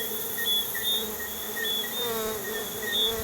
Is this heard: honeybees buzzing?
yes